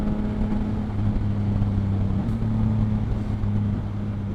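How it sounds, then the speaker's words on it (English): A Yamaha MT-07 or MT-09 motorcycle on a bumpy road gives a steady, close engine drone under wind rumble, with slight shifts in pitch as a quick shifter downshifts. "And a quick shifter, oh my god, I love it. Downshifting on this is so cool."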